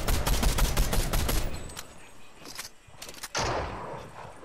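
Rapid bursts of gunfire crackle in a Fortnite match, dense and loud at first, then thinning to scattered shots with a final sharp blast near the end.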